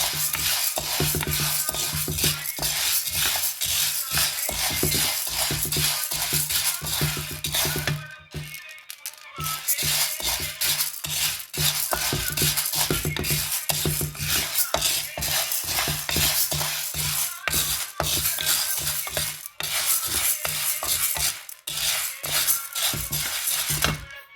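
Mung beans dry-roasting in a pan while being stirred, giving a continuous loud rattling, scraping clatter of beans and spoon against metal that runs unbroken apart from one brief pause.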